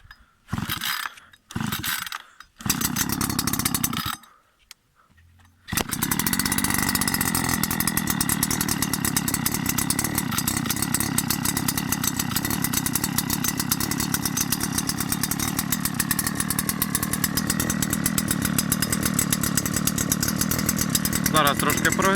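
A Sparta petrol brush cutter engine is pulled over in a few short bursts, catches and then runs steadily at a loud, constant buzzing idle close by.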